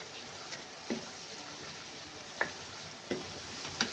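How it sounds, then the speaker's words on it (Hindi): Chole masala roasting in oil in a pan: a faint, steady sizzle with occasional soft stirring scrapes and clicks, with no talking. "अब इसे अच्छी तरह से मैं इधर भून लूँगी"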